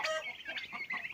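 Turkey poults let out a run of high, chirping clucks, close and fairly loud, as they step outside into the sun for the first time after living in a henhouse.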